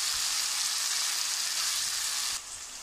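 Onions fry in a pan of hot oil as the base of a baim fish and potato curry, giving a steady loud hissing sizzle that drops a little in level near the end.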